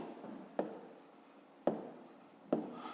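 Pen or chalk strokes while a math problem is written down, three sharp taps spaced about a second apart with faint scratching between, close and quiet, no voices.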